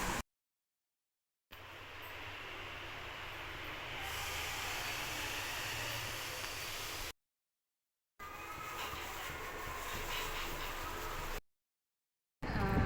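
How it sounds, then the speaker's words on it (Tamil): Water boils in a pot in bursts of hissing, bubbling noise, broken by short silent gaps, with no voices. "தண்ணி நல்லா கொதிச்சிச்சு"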